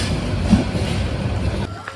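Passenger train rolling forward toward Maijgaon station near Sreemangal, heard from inside as a steady, loud rumble with faint rattling before it quietens near the end.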